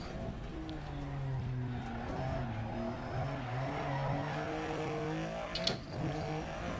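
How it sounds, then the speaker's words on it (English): A rear-wheel drive rally car engine in a video game drones steadily, its pitch rising and falling through gear changes, with tyre noise and a brief sharp knock near the end. "Just listen to that engine."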